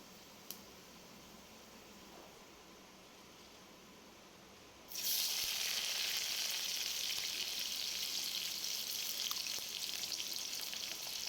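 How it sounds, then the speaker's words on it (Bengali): Chopped onion hits hot oil and bursts into a loud, steady sizzle midway through, after several seconds of faint background hiss, frying continuously to the end. "তারপরে দিয়ে দেবো একটুখানি পেঁয়াজ কুচি।"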